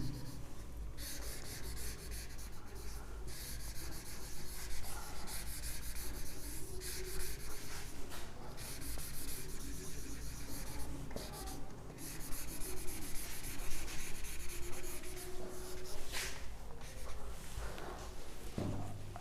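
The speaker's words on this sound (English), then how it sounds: "now I am erasing the second portion because I have already noted this down" Eraser rubbing steadily across a classroom board, a faint continuous scrubbing and brushing sound with irregular strokes and no talking.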